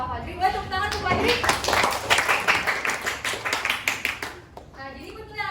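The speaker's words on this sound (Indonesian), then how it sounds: "Boleh tepuk tangan untuk Fajri?" Students in a classroom clap their hands together in a lively burst of quick, uneven claps that fade out near the end, with children's voices talking before and after.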